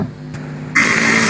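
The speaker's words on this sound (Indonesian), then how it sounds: "Itu suara motor, ya Allah." A motorcycle engine comes in nearby after a quiet hum, its noise suddenly rising loud and steady for the rest of the brief moment.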